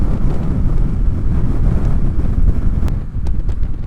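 Steady, loud wind buffets the microphone while riding a motorcycle on open roads in the Borrego desert, a dense roaring rumble that continues without a break and has no talk over it.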